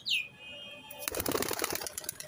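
Young pigeons in a loft, with a brief high call at the start, then a burst of rapid wing flapping from close by that rustles on for about a second, with no talk.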